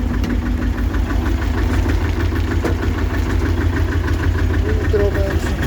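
A T-25 tractor engine runs with its power take-off engaged, driving a Bomet rotary tiller in a field, a loud steady knocking diesel chug close by with no pauses.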